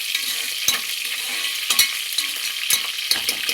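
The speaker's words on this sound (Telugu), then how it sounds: "సరే ఎంత బాగా చిటపట వేగుతున్నాయి" Curry leaves and green chillies crackle and sizzle in hot oil during biryani preparation, a dense continuous frying hiss punctuated by several sharper pops and spatters, close and fairly loud with no voices.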